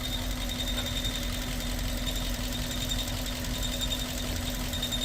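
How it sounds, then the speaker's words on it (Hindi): A Suzuki Baleno idles steadily with a low, even engine hum and a faint mechanical rattle from the clutch, continuous and close with no voices. "ये आवाज है क्लच की।"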